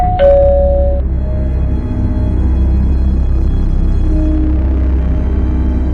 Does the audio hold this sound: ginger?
no